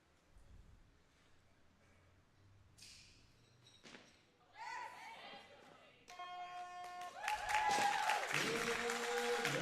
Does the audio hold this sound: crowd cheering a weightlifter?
yes